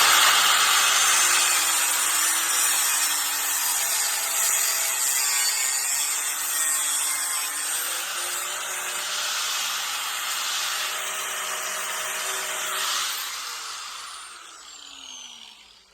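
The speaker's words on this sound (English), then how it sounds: "So I'm gonna take my grinder, I'm just gonna cut a little bit of this off." An angle grinder cutting through a piece of copper for a DIY fishing stringer, a loud, steady whine with shifting hiss that holds for most of the stretch, then tapers off and spins down at the end, no talking.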